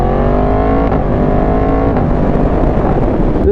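A BMW S1000RR motorcycle engine roars steadily while riding, loud and close with a sustained high-revving drone and a rising pitch.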